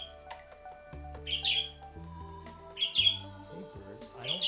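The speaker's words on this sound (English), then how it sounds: "I don't see any birds that they're yelling at. But they are being very loud today." Birds squawk and chirp loudly outside in a few repeated high bursts, heard under a soft background of calm game music from a Stardew Valley farm session.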